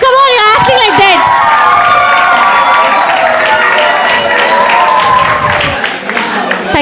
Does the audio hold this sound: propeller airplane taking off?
no